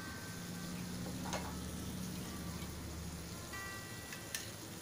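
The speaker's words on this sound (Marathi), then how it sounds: "धनिया पाउडर आणि मिक्स करूया, परतून घेऊया।" Masala with coriander powder sautéing in a pan for a Malvani clam curry, a steady faint sizzle and crackle with a couple of brief scraping stirs.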